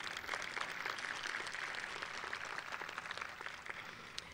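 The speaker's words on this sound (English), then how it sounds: "yes, cheer for that" Faint audience applause and cheering at the inauguration of a DePauw University president, with soft, distant, steady clapping for a few seconds.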